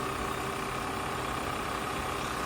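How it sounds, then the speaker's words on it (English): A 2002 Mercedes-Benz SL500 R129 Silver Arrow idles with a faint alternator rattle, giving a quiet, steady engine hum that holds even throughout. "Slight rattling noise if you can hear it on the video maybe, and I think that's the alternator."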